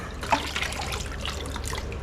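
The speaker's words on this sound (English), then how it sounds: "I'll pull this a little bit closer so I can drain any excess water that's in here into there" Excess water drains from the pond of a savanna monitor lizard tank. It makes a steady close trickle with splashy bubbling and occasional drips, moderately loud and continuous, with no speech.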